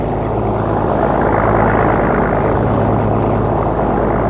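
An overloaded municipal boat's engine drones loud and unbroken, a dense, steady roar close at hand with no voices over it.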